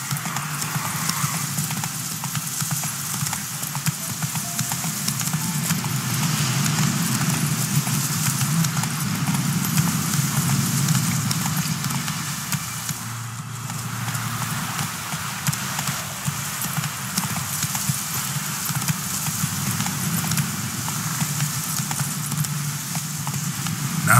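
Roach, a horse in The Witcher 3 game, gallops with steady rhythmic hoofbeats that drive on continuously and fairly loud, under a broad wash of wind or rain noise, with no talk.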